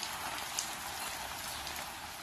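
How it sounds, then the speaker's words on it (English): Heavy rain falls in a Puerto Rico backyard during rainy season. A dense, steady hiss of drops pours down without letup, heard from under a tree, with no talking. "I'm under this tree because it's raining real bad."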